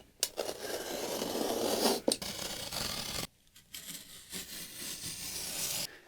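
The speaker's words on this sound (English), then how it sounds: "I'm going to line up this piece and cut the same size out again." Scissors cut through a sheet of cardboard to size while packaging artwork for shipping. There are close, rough rasping cuts with short pauses between them and a sharper snip near the middle.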